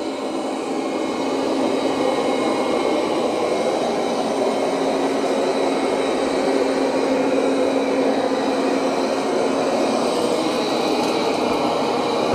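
iHome Nova S1 Pro robot vacuum running across a floor, a steady whirring motor hum with a continuous airy suction hiss, even and constant with no voices.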